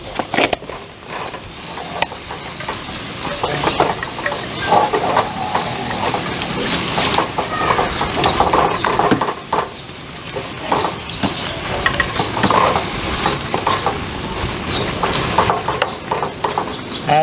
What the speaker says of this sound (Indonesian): Nah, selanjutnya kita masukkan daging gilingnya dulu ya. Pemirsa Ini 250 gram daging giling. Ya, kita aduk sampai rata.